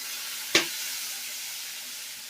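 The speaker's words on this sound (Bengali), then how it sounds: "এর ভেতরে জলটা দিয়ে দেবো।" Water is poured into a hot pan of frying bitter gourd leaf spice paste, giving one sudden burst of sizzle that settles into a soft steady hiss.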